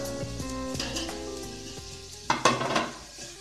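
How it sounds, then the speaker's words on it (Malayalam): Sliced onion frying in ghee for ghee rice, a steady close sizzle with stirring clatter and a few louder scrapes near the end; no talking. "ഞാനൊരു ചെറിയ സവാള നല്ല നീളത്തിൽ അരിഞ്ഞിട്ടുണ്ട് അതിട്ട് കൊടുക്കുക"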